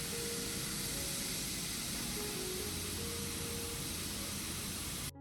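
Steady broadband hiss of cola pouring continuously over eggs in a pot, close and even throughout, cutting off abruptly at the end.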